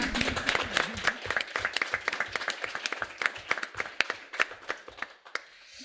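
An audience applauds together at a women's gathering, a dense run of many hands clapping steadily and fairly close for several seconds, then tapering off near the end.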